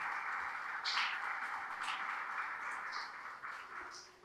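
A church congregation applauds together, a steady wash of many hands clapping at moderate distance, with a few brighter accents and sustained cheering over it, continuing without a break.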